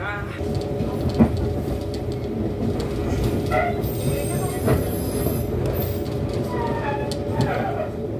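An Argo Cheribon express train runs toward Bekasi station, its steady rumble and rail noise continuous and close, with occasional wheel squeals and clicks, while a voice talks over it.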